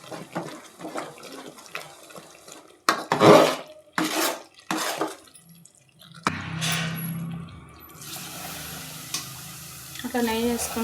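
A spoon scrapes and stirs a Mysore pak mixture in a pan as ghee is added, with sharp clinks against the metal and then a sustained sizzling bubble, close up, with faint speech.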